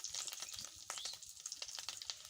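An egg frying in a pan gives off a faint, steady crackle and sizzle with scattered small pops, close by and without talk.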